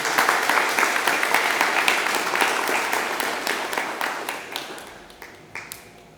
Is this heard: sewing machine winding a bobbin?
no